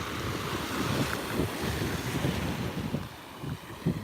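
Strong, steady wind on a Sanibel beach at sunset buffets the microphone with a constant roar, and surf rumbles underneath throughout.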